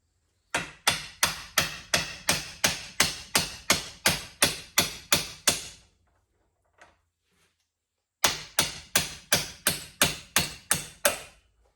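Hammer taps on a driveline universal joint from a 1962 Pontiac, a steady run of about twenty sharp metallic blows at an even rhythm, then a pause of a couple of seconds, then another quick series, close and loud with no talk.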